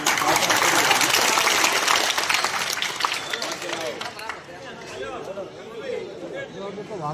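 An audience at a community gathering applauds to welcome an elder, with dense, loud clapping that fades into crowd chatter and overlapping voices.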